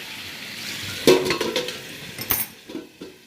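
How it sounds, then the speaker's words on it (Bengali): Potatoes boiling in a covered pot are stirred, giving a burst of metallic clinks and scraping against the pot over a soft bubbling hiss, followed by a lid-like clatter and a few lighter taps. "মাঝে মাঝে এরকম একটু নেড়ে দিতে হবে, আবার ঢাকনা দিয়ে রাখতে হবে"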